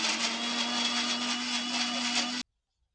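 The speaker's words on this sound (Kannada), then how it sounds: "ಕ್ಲೀನಾಗೆ ಪೇಸ್ಟ್ ಮಾಡ್ಕೋಬೇಕು, ಫುಲ್ಲು ನುಣ್ಣಕ್ಕೆ ರುಬ್ಕೊಳ್ಳೋಣ" A kitchen mixer grinder runs steadily at close range, grinding chicken biryani masala into a fine paste, with a constant motor whine and a gritty whir, then stops abruptly before the end.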